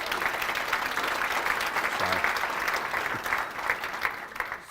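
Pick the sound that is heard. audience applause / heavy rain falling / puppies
audience applause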